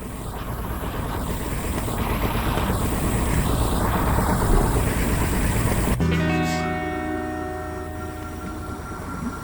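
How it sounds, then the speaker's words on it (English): An engine runs with a loud, steady rumble and breathy rushing noise for about six seconds, then cuts sharply to a quieter, humming tone that fades out. "The engine is engaged and we are starting our set."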